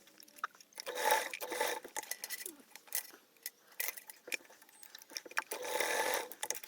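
A sewing machine stitches down a sling bag strap in short, close bursts of rapid mechanical chatter separated by brief pauses and quiet handling noises.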